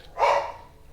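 A single short dog bark, sharp and somewhat distant, standing alone against a quiet background.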